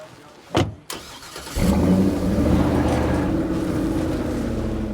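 A car in the zombie survival game State of Decay 2, fitted with heavy plating: two short clicks, then the engine catches and settles into a loud, rumbling idle with slight revving.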